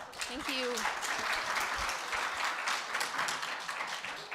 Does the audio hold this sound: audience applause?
yes